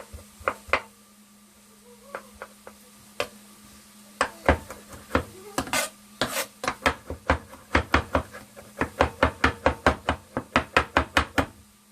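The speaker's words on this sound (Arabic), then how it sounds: "نخلي الثوم قطعته قطعات صغيرة" Garlic cloves chopped into small pieces with a knife on a board, a string of sharp close knocks starting sparse and uneven, then speeding into a steady rapid rhythm over a low constant hum.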